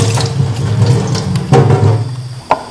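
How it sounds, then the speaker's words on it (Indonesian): Cut lemongrass pieces are rinsed under a running kitchen tap, a loud, close, continuous splashing gush with a sudden shift midway and a short splash near the end. "Cuci dengan air bersih potongan dari serai tadi."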